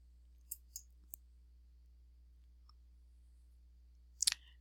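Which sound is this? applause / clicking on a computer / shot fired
clicking on a computer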